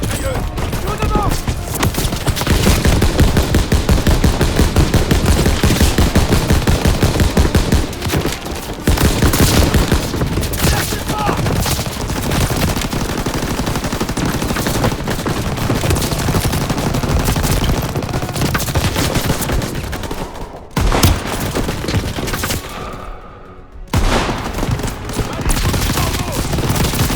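Sustained rapid gunfire from Call of Duty WWII, with machine gun bursts and fusillades rolling almost continuously at high volume, dropping out briefly near the end before resuming.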